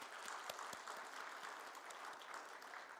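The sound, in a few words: congregation applauding in church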